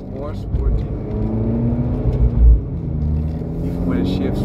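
Abarth 595C Turismo convertible driving in sport mode with the roof down, a steady low engine drone and rumble with a brief louder surge midway, under someone talking throughout.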